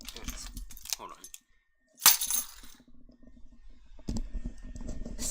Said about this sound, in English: Alright, I gotta put my keys in my pocket again.